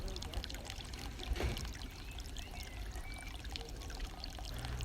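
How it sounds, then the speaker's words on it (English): Water from a garden pond filter pours back into the pond, a continuous close splashing and trickling stream that holds steady throughout. "So here you can see the water enters on one side of the pond and leaves on the opposite end."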